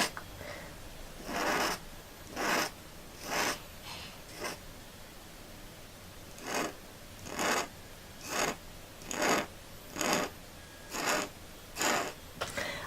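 A pen scratches across paper while hatching parallel lines for a pen and ink drawing, close, soft repeated strokes in a steady rhythm with short gaps between each stroke.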